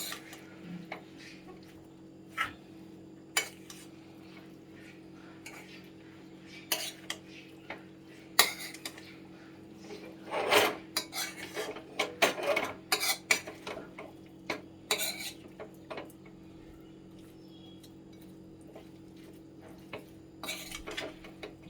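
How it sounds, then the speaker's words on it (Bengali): Kachki fish curry being stirred in a bowl: scattered light clinks and scrapes of a utensil against the dish, irregular and close, busiest in the middle, with quiet gaps between and no voices. "আমি একটুখানি এটা ভালো করে নেড়ে দেবো।"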